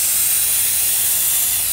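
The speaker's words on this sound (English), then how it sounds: "we're gonna go ahead and spray it and get started." A loud, steady aerosol hiss as hydro-dipping activator sprays continuously from a can held close, with no other sounds.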